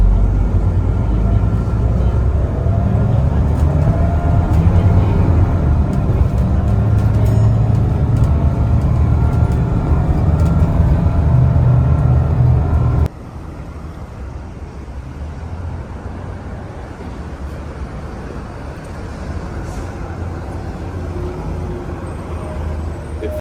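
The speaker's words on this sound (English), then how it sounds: "gas buses sound really nice" A gas-powered Transperth bus engine drones loudly and steadily, then abruptly drops to a quieter, even hum for the rest of the stretch.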